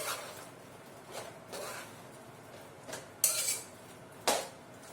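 A spoon stirring smoked turkey and stockfish in a pot of Nigerian osiki egusi soup, with a handful of separate scrapes and clinks against the pot at uneven intervals, close and fairly quiet.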